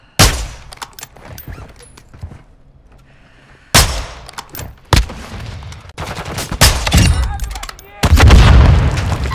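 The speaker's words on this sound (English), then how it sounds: "Where'd that rocket just come from?" Sharp bursts of gunfire and heavy blasts, including a rocket explosion, in a military video game, arriving in loud clusters separated by brief lulls, with a sustained rumbling barrage at the end.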